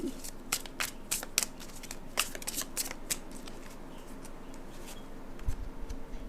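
Tarot cards are shuffled close up in a quick series of crisp riffling bursts and soft flicks, fairly quiet, with no talking.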